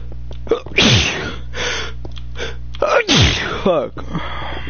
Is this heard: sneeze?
yes